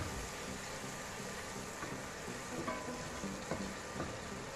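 Chopped onion fries in a pan for Indonesian-style fried rice, giving a steady, moderate sizzle with faint scraping stirs scattered through it.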